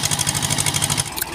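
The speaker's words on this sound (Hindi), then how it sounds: "तो गाइस ट्रैक्टर तो हो गया स्टार्ट।" A tractor engine running steadily right after starting, a loud, close, rhythmic diesel chug with regular pulses and no talk over it.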